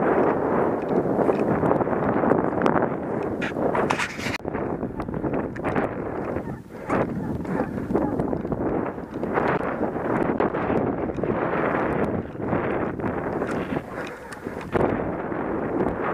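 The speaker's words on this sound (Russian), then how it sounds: "Ветер метет." Strong wind blows across an open ploughed field during a hare hunt, roaring continuously into the microphone with gusty buffeting and rustling throughout.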